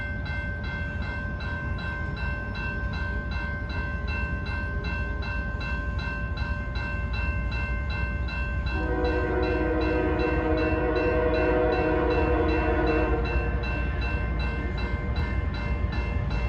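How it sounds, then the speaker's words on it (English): A long coal train rolls past close by with a steady low rumble of railcars, while a multi-tone horn sounds in sustained blasts over the grinding noise, growing brighter and louder partway through. "It's a coal train."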